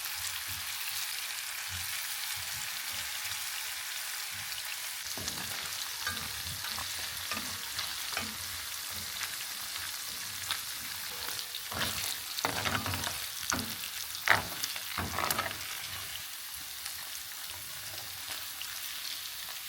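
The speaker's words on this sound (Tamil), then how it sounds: "ஊறினதுக்கப்புறமா ஆயிலில் ஃப்ரை பண்ணி எடுத்துக்கலாங்க." Marinated paneer pieces fry in oil as a veg pizza topping. A continuous crackling sizzle plays alone, with stirring scrapes and pops growing busier toward the middle before settling again.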